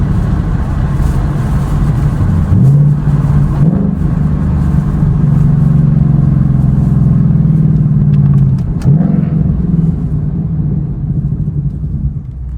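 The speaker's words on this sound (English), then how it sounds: "those downshift sounds so crazy at nighttime. Empty streets. The exhaust sound just bouncing off the walls" A Ford Mustang's engine rumbles close by, its exhaust note rising and dropping through several downshifts, a steady low drone with no talking, echoing off walls on empty streets at night.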